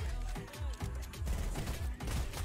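Rapid gunfire in the Fortnite video game, a dense string of loud shots with steady bursts filling the whole moment, no talking over it.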